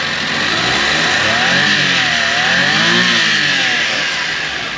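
The turbocharged engine of a Suzuki Every van with 243K on the odometer revs loudly and up close, the pitch climbing and falling in two clear sweeps over a steady idle, with no voices.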